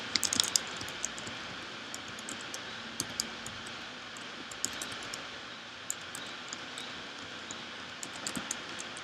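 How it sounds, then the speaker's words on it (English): Alt codes being typed on a computer keyboard, a quiet run of light, irregular key clicks and taps, some in quick bursts and others spaced out, over a faint steady background hum, with no talking. "I'm just typing in a bunch of alt codes until I get like"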